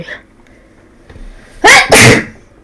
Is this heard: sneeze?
yes